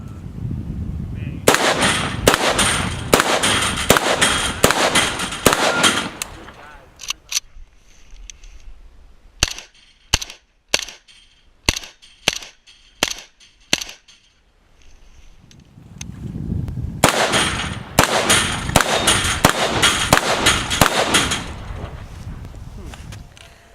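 An Arsenal SLR-104FR AK-74 rifle fired at an outdoor range, loud and close. A long rapid string of shots is followed by slower, evenly spaced single shots and then another rapid string.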